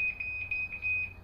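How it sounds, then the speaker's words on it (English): A Ryobi Tek4 motion-sensing alarm gives a high, steady electronic chime, pulsing in short repeated beeps, loud and close with no talk. "but it has a chime."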